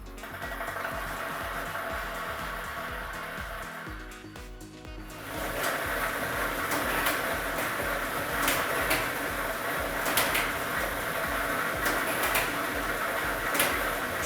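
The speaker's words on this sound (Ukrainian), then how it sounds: "ми вмикаємо лототрон" Lottery drawing machine for a Ukrainian state lottery draw running with its set of numbered balls, a steady whirring mechanical churn with light clatter of tumbling balls throughout.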